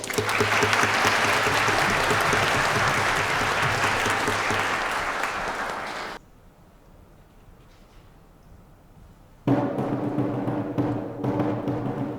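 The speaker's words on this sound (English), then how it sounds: "Give them both a round of applause" Loud, sustained applause from the audience at a spring chorus concert fills the hall, drops into a brief near-silence, then a second burst of clapping rises again.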